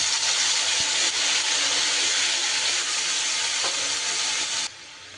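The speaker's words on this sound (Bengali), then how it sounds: "এইবার আমি মাছ ভাজার এই তেলেই দিয়ে দিচ্ছি একটু ফোড়নে তেজপাতা আর একটু গোটা জিরি" Bay leaf and whole cumin seeds sizzle steadily in hot leftover oil from frying rohu fish, a loud, dense hiss that holds nearly constant before dropping off abruptly near the end.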